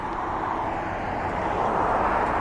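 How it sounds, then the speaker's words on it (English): Jumbo jet aircraft at East Midlands Airport, a steady broadband roar of jet engines sustained throughout, moderately loud and slightly swelling toward the end, with no voices. "you're going to see a jumbo jet going out, and there'll be one coming in"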